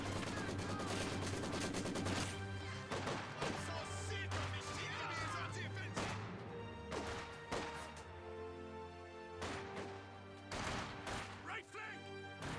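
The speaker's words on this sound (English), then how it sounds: "Maxim fire away, suppressing down the Grenadier, no problem." A Maxim machine gun fires in the Company of Heroes 2 battle game, rapid bursts crackling amid other gunfire and clatter. A caster talks continuously over the combat.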